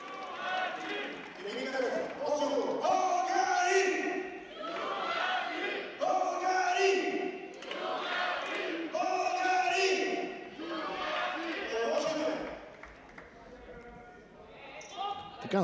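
A futsal hall crowd chants and cheers in repeated rhythmic vocal bursts, swelling and dropping every couple of seconds, fairly distant and echoing in the indoor space.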